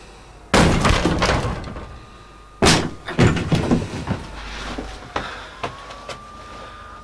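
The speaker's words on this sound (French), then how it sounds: "Ouvre ou je défonce la porte." A door is forced open with two violent crashing impacts that carry splintering and rattling debris, followed by scattered smaller knocks and clatters fading into a quieter room.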